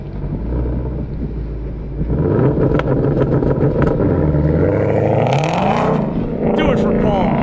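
A loud car engine runs and revs at an air base event, with rising and falling pitch sweeps suggesting acceleration; people talk over the steady engine roar throughout.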